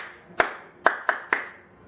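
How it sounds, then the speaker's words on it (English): Four sharp hand claps close up in a quiet room, uneven in spacing, each with a short ringing decay. "If my clapping is in time with the sound, then you know things are okay."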